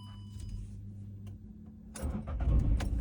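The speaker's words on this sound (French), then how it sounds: "je vais démarrer" A quiet idle hum, then a Volkswagen Up 1.0 60 hp petrol engine with manual gearbox cranks and catches around the two-second mark, revving up loudly and settling into a running rumble.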